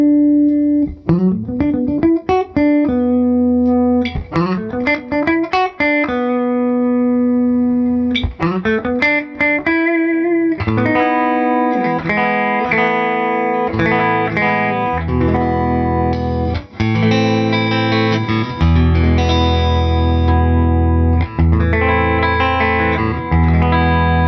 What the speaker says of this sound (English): The tone knob down, and now we get a very classic, almost arch top type tone.